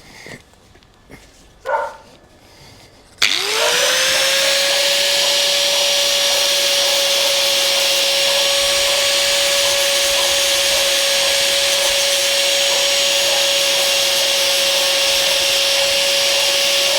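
A grinder bites into the metal of a pit bike lever after a few clanks, then holds a loud, continuous high-pitched whine with a steady droning tone that runs unbroken to the end.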